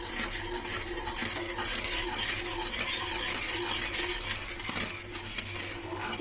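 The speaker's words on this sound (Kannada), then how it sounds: "ಸಕ್ಕರೆ ಮತ್ತು ಬೆಲ್ಲ ಕರಗೋವರೆಗೂ ಹೀಗೆ ಚೆನ್ನಾಗಿ ಮಿಕ್ಸ್ ಮಾಡಿ." Sugar and jaggery syrup stirred in a pan while making coconut burfi: a steady scraping and bubbling under faint kitchen clatter, continuous and close, with no one speaking.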